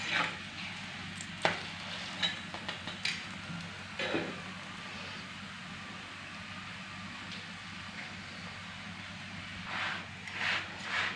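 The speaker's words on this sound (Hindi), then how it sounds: "पराठा हमारा माशाल्लाह बहुत अच्छा पक रहा है।" Mooli (radish) paratha cooking in ghee on a hot pan, a steady soft sizzle and crackle with a few sharper clicks and scrapes, close and continuous with no talking.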